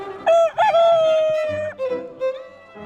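A rooster crows once, loud and close, in a morning grassland among a flock of red-feathered chickens, while a few short clucks follow after the crow.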